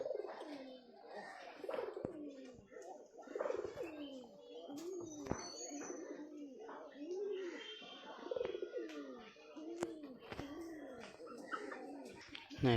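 Pigeons on a roof coo repeatedly in soft, rolling phrases, several birds overlapping at moderate distance, with occasional chirps and faint background voices.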